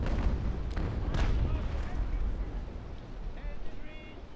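Cannons fire between sailing frigates in the naval game Naval Action Legends, with deep booming blasts and rumbling impacts in the first half before they fade into ambient sea noise as someone talks over them.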